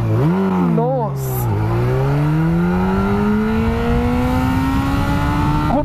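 A Yamaha R1 motorcycle accelerates hard from a standstill toward 100 km/h, its engine note climbing in pitch, dipping briefly at quick gear shifts, then rising in a long, loud, sustained pull with wind noise.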